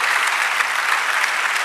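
A church congregation applauds in dense, steady clapping that fills the space evenly and loudly throughout, with no voices breaking through.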